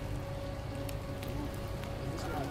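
Rain falls outdoors on a wintry day with hail and snow about, a faint steady patter over low background rumble, with a few soft scattered drop sounds.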